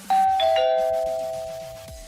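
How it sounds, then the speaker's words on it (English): A doorbell rings once with a clear two-tone ding-dong chime, loud and close, its tones ringing out and slowly fading. "Tell me you hear that doorbell"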